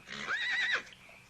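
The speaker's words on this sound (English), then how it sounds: "Hey, that couldn't be our horses." A single high, wavering horse whinny rings out at moderate distance in a western TV episode, lasting under a second, then fades into quiet.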